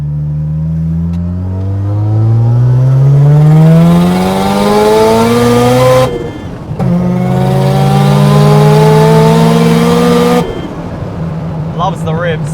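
A Mazda RX-7 fitted with a muffler is driven hard on a winding mountain road, its engine screaming up through the revs in loud, close rising sweeps, dropping briefly at a gearshift and then climbing again before lifting off.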